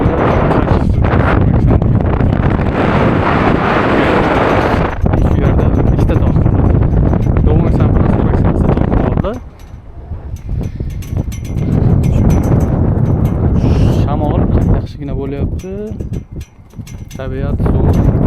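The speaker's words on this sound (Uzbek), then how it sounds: "yo'l tomonida bu yerda bu shamol kuchaydi" Strong wind buffets the microphone on a mountain road near Bukhansan and Dobongsan during a hike to Buramsan, a loud, continuous low roar with gusts that briefly ease midway, and a short voice near the end.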